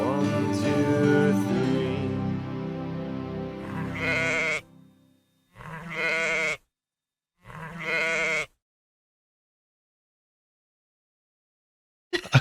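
Sheep bleat in a few separate wavering calls, the first long and loud, then two shorter bleats after pauses, followed by a long silence.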